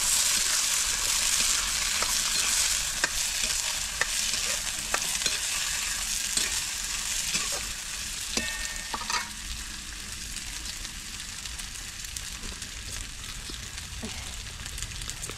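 Bell pepper and peas frying in oil in a pan over a wood fire, giving a continuous close sizzle and bubbling with occasional stirring clinks and scrapes.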